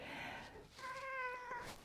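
A Siberian cat lets out a clear, close meow with a sustained, slightly wavering tone, preceded by softer vocal murmurs and no human talk.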